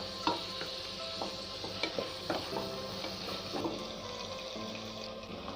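Mushroom biryani masala frying in a pan, a steady sizzling hiss with occasional stirring scrapes and clinks, close and continuous.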